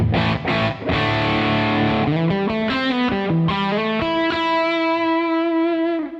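A clean-toned electric guitar through a Marshall JVM amp's red clean mode plays a few strummed chords, then single notes, ending on a long ringing note that slowly fades.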